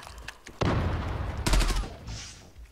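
A burst of rapid gunfire from a UMP45 in the video game Zula erupts after a quiet moment, loud and sharp, followed by more shots and a trailing hiss.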